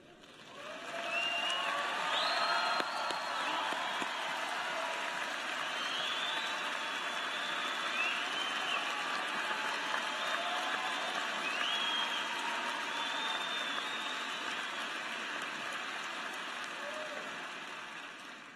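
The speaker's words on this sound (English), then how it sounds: "I hope you heard that applause" Graduation ceremony crowd in a large arena gives sustained applause, broad and even clapping with scattered cheers and whistles that holds steady throughout and tapers slightly toward the end.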